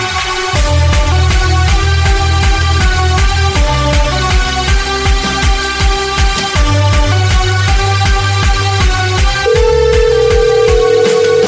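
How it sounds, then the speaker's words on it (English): A telephone call signal plays as a call is placed: a loud, steady run of repeating electronic tones with a musical, ringtone-like pattern that continues without a break. "Calling Gino Gallela now."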